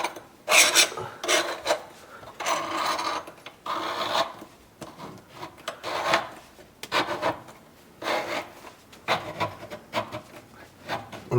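A plastic sink drain fitting is hand-tightened under a kitchen sink, giving close, repeated rasping and rubbing scrapes in uneven bursts with short pauses between twists.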